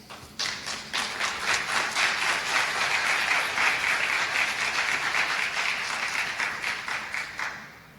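An audience at a school district community forum welcomes a superintendent candidate with steady, full applause that holds for about seven seconds at even loudness, then tapers off near the end.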